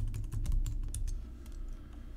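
Quick, close typing on a computer keyboard as a new password goes in, a short run of soft, irregular key clicks.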